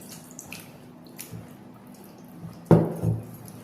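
Water is poured into kambu koozh, pearl millet porridge mixed with sour curd, with a brief close splash and gurgle near the end after faint dripping.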